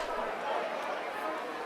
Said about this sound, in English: I have another ambient sample, which is a kind of ambience bar.